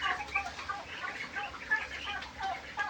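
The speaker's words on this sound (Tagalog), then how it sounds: "Ang daming sisiw." A crowd of chicks on a farm in Taal, Batangas, cheeping in overlapping high chirps mixed with some clucking poultry, fairly close and continuous.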